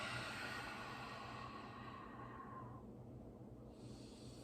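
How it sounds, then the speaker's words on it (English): A long, breathy exhale during a yoga stretch, close and soft, its airy hiss fading gradually over a few seconds. "and exhaling, squeezing out."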